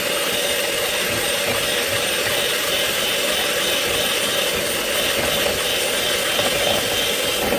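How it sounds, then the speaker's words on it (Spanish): An electric mixer whips natural cream in a kitchen, a steady, loud whirring motor drone that holds without pause for several seconds, with no talk over it. "Ahora voy a montar crema o nata, como la conozcan."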